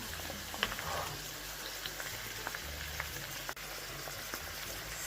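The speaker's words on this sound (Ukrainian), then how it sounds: "Смажимо до готовності." Steady sizzling and bubbling of salted wild forest mushrooms frying in a pan, with scattered pops and crackles over a low background hum.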